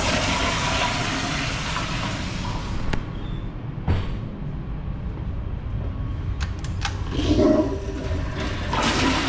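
A Sloan sensor-operated flushometer valve fires on a commercial toilet, giving a loud, continuous rushing water flush that gradually thins out, with a couple of sharp clicks and knocks near the end.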